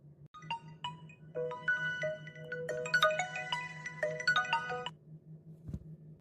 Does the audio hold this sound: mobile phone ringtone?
yes